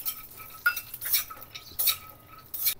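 Dry fruits and almonds roasting in ghee are stirred in a pan, heard as a few short bursts of scraping and clinking against the metal, close and distinct, with no talk.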